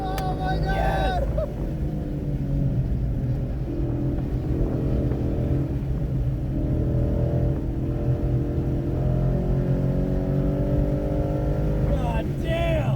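A 2015 Ford Mustang GT engine revs hard on the Chuckwalla Valley Raceway track, a loud, sustained in-car drone with rising and falling pitch through gear changes, while excited shouting rises over it at the start and end.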